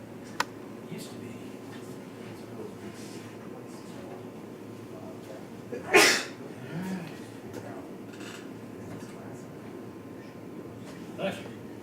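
One short, sharp human sneeze bursts out midway through a quiet indoor room with soft background clatter.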